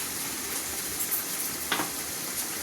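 Spices (salt, cumin powder, turmeric, chilli, coriander powder) sizzling in hot oil in a pan while frying for a Bengali mutton curry, a steady broadband hiss with a brief louder crackle near the end.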